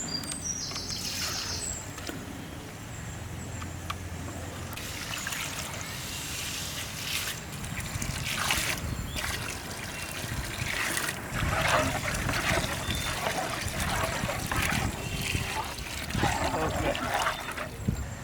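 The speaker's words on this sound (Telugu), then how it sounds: "ఇప్పుడు ఒక జగ్గుకి 2 జగ్గులు నీళ్లు చొప్పున మొత్తం 4 జగ్గులు వాటర్ వేసుకుందాం" Water is poured from a jug into a pot of basmati rice in a steady, splashing stream that runs almost without a break.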